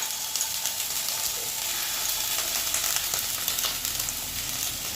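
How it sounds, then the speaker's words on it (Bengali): Ground peanut paste hits a hot wok (kadai) for a vegetarian navratan curry and sizzles steadily and loudly, a dense continuous frying hiss with faint stirring. "যে আমি 2 চামচের মতো চীনাবাদাম বেটে রেখেছি, সেটাও আমি এবার কড়ার মধ্যে দিয়ে দিচ্ছি।"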